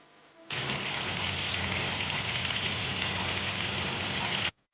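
Prawns frying in butter in a hot pan, a loud, dense, continuous sizzle close to the mic that starts abruptly, holds steady for about four seconds, then cuts off.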